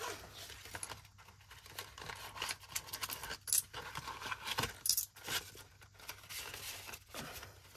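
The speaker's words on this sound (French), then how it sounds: "J'ai retiré toutes les pièces." Coins are handled and dropped while sorting budget envelopes, giving faint scattered metallic clinks and jingles close by, mixed with soft rustling.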